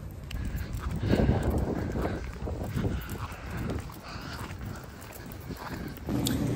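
Wind blows outdoors on a college campus, a rough, gusting rumble buffeting the microphone throughout, loud and close, with no clear talk over it.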